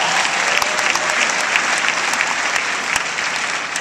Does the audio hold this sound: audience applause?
yes